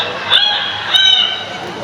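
A parrot at a bird show mimics a rooster's crow, giving two short, bright crowing calls in quick succession, loud and close, with faint crowd noise around.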